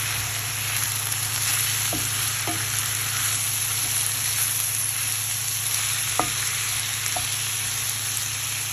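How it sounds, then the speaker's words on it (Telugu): Chopped tomatoes frying in a pan for a bottle gourd garlic curry, a steady close hiss of sizzling with a few sharp scraping stirs scattered through, no voices. "ఒకసారి కలిపేసుకొని కట్ చేసి పెట్టుకున్న టమాటా ముక్కలు వేసేసుకోవాలి"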